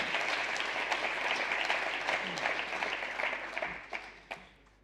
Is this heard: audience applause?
yes